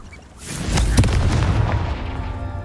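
The Confringo spell in Hogwarts Legacy goes off as a single booming blast that swells from a soft lead-in into a loud, sustained rumbling burst, then slowly tails off.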